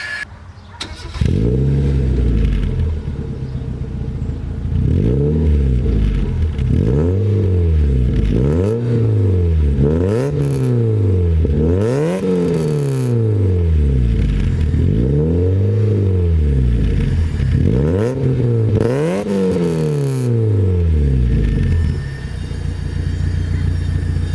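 Classic car at the Le Mans Classic firing up, then revved repeatedly in a rhythmic series of rising and falling blips, loud and close with no talk over it.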